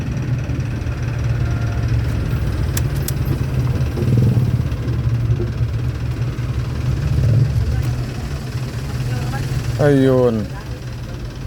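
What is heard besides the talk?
Suzuki Swift engine idling then shutting off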